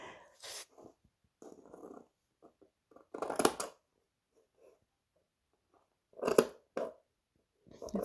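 Scissors trim crochet yarn tassels in short, quiet clusters of snips separated by silent pauses.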